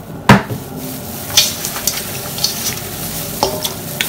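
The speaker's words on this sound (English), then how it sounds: "letting it marinate, moving it around, make sure the seasoning gets on each chicken" Marinating chicken is stirred in a bowl with soft scraping and several sharp clinks at irregular moments, nearby and without speech.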